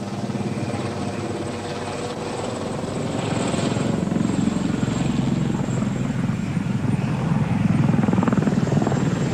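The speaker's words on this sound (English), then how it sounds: "This is where the OH-58 reconnaissance helicopter comes into play." An OH-58 reconnaissance helicopter flies overhead, rotor thumping and turbine whining as the steady throb grows slightly louder over several seconds.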